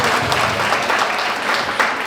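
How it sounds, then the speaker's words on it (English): A school book-fair audience claps for Year 7 and 8 students: dense, sustained applause from a crowd throughout, with no talking. "Let's clap for them again."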